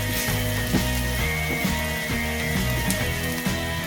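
Masala for methi malai paneer sizzles and fries steadily in a pan, a constant close hiss with faint crackles and small pops throughout.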